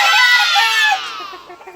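A white Kelso gamefowl rooster gives a loud, close, harsh drawn-out call that trails off into softer clucks.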